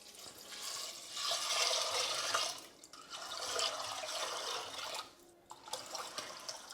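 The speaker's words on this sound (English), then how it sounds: "I'm going to add 1500 ml of just tap water." About 1500 ml of tap water runs and pours into a cooking pot in a home kitchen for a beans and potato curry, a steady broadband splashing rush that swells and eases in two long pours, with a brief pause and some dribbling toward the end.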